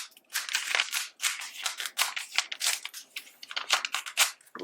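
A page tearing out of a Hobonichi Weeks planner: a series of close, scratchy ripping bursts in quick uneven strokes, loud and alone.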